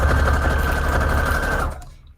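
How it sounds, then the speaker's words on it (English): Sewing machine running a straight stitch down a paper guest check, a fast, steady mechanical whir up close that stops abruptly near the end. "I am just doing a straight stitch down her body."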